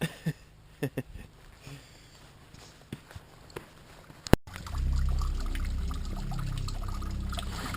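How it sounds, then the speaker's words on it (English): Water jugs being filled outdoors: scattered knocks and handling clicks come first, then after a sharp bang water pours in with a steady rushing gurgle, close by. "Just decided that I wanted to fill up my water jugs through old school means, just the slow process of filling and dropping the water."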